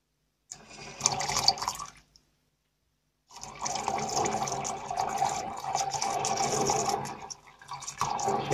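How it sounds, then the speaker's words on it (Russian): Liquid from a gold-recovery process using chipset bridges poured into water, two bouts of close, splashing pouring separated by a short silence, the second longer and fairly steady, with no talking. "Вот сюда, в эту воду, сейчас буду сливать вот эту жидкость."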